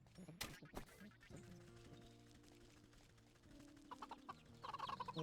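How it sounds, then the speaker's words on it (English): Cartoonish fowl peeping from small yellow chicks in the video game Wytchwood, a few short chirps and clucks early on over quiet game music and ambience, with brighter bird-like tones returning near the end. "Little chickies are so cute."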